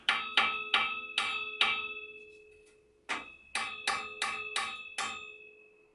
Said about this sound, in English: So let's just give this a tap.